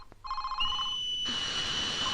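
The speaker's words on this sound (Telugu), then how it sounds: "ఒరే సుధా, ఆ ఫోన్ ఎత్తరా." A home telephone rings indoors, an electronic ring burst followed by a louder, sustained bright ringing tone that continues steadily, with no voices over it.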